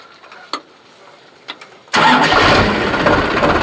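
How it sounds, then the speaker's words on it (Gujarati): A DiGiTRAC PP 43+i 52 hp tractor engine cranks and fires after a couple of faint clicks, catching abruptly and settling into a loud, steady close-up idle with no talking. "આપણે ટ્રેક્ટરનો અવાજ સાંભળશું મિત્રો"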